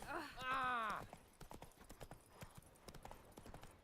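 Roach, Geralt's horse in The Witcher 3: Blood and Wine, gallops with rapid, steady hoof clip-clops after a brief burst of voice at the start.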